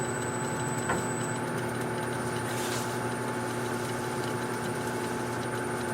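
A lathe turning a walnut blank at 150 RPM while a 2 1/8 inch bit drills into it, giving a steady, continuous mechanical hum with sustained tones and no break across the whole stretch.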